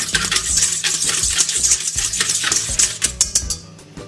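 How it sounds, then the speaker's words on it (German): A utensil stirs yeast, sugar and lukewarm water in a bowl, giving rapid, steady scraping and clinking against the bowl that continues close and clear for about four seconds. "Das verrühre ich so ein bisschen."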